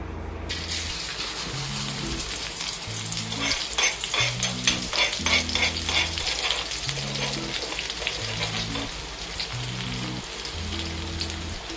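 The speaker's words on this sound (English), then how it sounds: "Stir fry the garlic with anchovies." Garlic and anchovies are stir-fried in a hot pan, with a steady sizzle and crackle under repeated scraping of the stirring utensil, while faint background music plays throughout.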